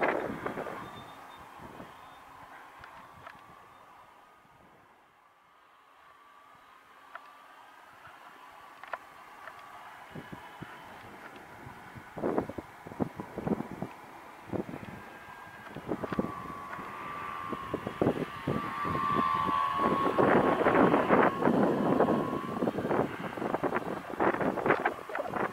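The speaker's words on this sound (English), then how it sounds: "Yeah, it is gusty." Gusty wind buffets the microphone outdoors at a model airplane flying session, a rough rumbling roar that swells and strengthens toward the end, with faint mechanical buzzing mixed in.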